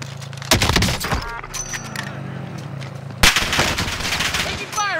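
Gunfire in Warzone, a Call of Duty battle royale game: sharp shots and rapid automatic bursts, loud and close, with a second heavy volley later over a constant background rumble.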